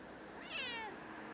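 A cat that has just had its coat clipped short lets out a single drawn-out meow, moderately near over a faint background hiss.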